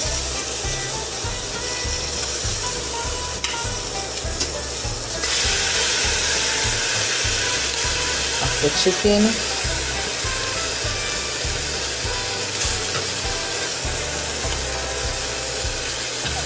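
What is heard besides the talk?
chicken sizzling in hot pot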